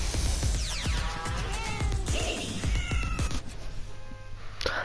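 A person imitates a cat's meow, several drawn-out, wavering vocal meows in a row, close and fairly loud, with no other talking.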